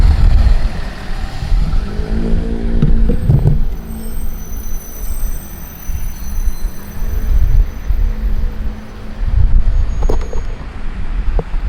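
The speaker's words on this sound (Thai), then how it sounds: "เสียงเครื่องยนต์เงียบมากนะครับ" A KIHA 40 diesel railcar engine on a test run runs with a steady low rumble, joined by rolling rail noise and an occasional faint squeal. The sound stays fairly even, with no voices.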